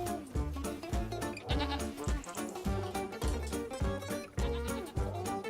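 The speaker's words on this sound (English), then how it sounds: "We have goats." Goats in Farming Simulator 25 bleat a few times over a loud, rhythmic game music track.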